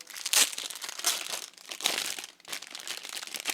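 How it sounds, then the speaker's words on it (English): Plastic wrapping crinkles and rustles loudly up close in several bursts as it is peeled off a Bose SoundLink Flex Bluetooth speaker. "that wrapping was really loud"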